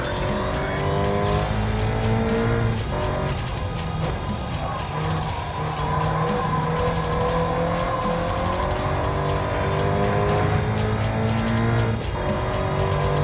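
A loose race car in a racing game at Nations practice, its engine howling continuously with shifting revs while the tires squeal and skid through corners, loud and close throughout.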